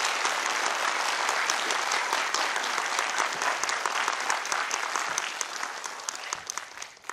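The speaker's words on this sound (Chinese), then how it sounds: "时间交给天老师一个热烈的掌声" A lecture hall audience in Kaohsiung gives a warm round of applause for a speaker at a political talk, dense sustained clapping from many hands that fades out toward the end.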